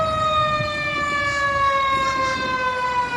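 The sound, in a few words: fire truck siren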